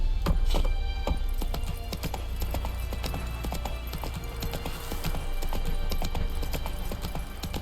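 Roach the horse galloping in The Witcher 3, rapid rhythmic hoofbeats clopping steadily and close throughout, with a brief whinny-like sound near the start.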